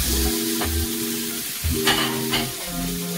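Sweet peppers for chicken wraps stirring and frying in a hot pan, a steady sizzle broken by scraping utensil strokes and a few clinks, close and fairly loud, no talking.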